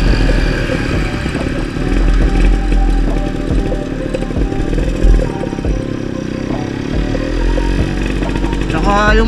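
A 1996 Kawasaki HD3 motorcycle engine runs steadily with a metallic rattle, loud and close throughout, while someone talks over it.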